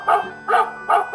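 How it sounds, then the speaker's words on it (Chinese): A smart door sensor's alert plays a recorded dog barking, three to four quick, even woofs close and clear in about a second, with nothing else behind them. "如果长时间不关门就会发出狗叫声。"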